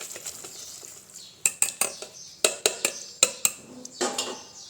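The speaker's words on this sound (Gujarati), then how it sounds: "આપણે છાશ ઉમેરશું અને આ વિસ્કરની મદદથી સરસ રીતે મિક્સ કરી લઈશું" A whisk beats buttermilk into khatiya dhokla batter in a metal bowl, giving a series of close, quick clinking strokes against the sides over a soft stirring swish.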